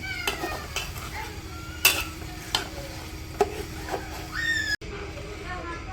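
Rice and vegetables are stirred and fried in a pot for vegetable khichuri. A spoon scrapes and clinks against the metal over a soft sizzle, with a cat meowing briefly amid the kitchen noise.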